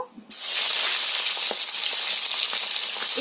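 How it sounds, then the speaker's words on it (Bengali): Loud, continuous sizzle of hilsa fish heads dropped into hot mustard oil, starting abruptly after a brief quiet moment and hissing steadily with faint crackles and spatters. "তেলটা গরম হয়ে গেছে এবার ইলিশ মাছের মাথা দুটো ভেজে নেব"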